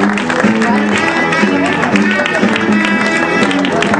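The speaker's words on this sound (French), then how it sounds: "un grand applaudissement pour eux" A crowd in a French-speaking venue applauds and cheers for the Blue Brothers, guest performers, in a dense, sustained burst of clapping with lively voices mixed in throughout.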